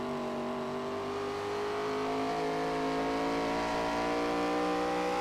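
Race cars in the New England 150, a Fuel Premier Series oval-track race, roar together in a steady, loud, layered engine drone that rises slightly in pitch as the pack accelerates, with no voices.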